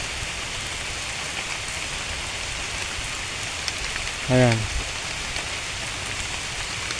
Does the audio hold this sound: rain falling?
yes